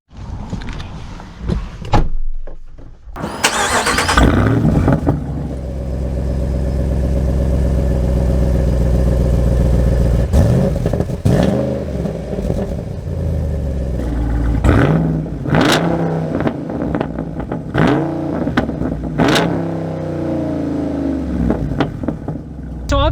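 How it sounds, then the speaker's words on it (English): A 2023 Mercedes G550 and a 2023 Jeep Wrangler Rubicon 392 accelerate hard from the same spot, loud engines roaring and rising in pitch over a long run, then easing off with gear-change dips and a few later surges. "I just want to get a quick video of accelerations in the exact same location"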